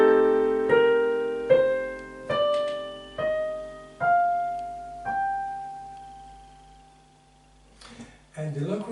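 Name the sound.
Locrian scale played on an instrument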